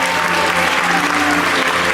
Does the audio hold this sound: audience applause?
yes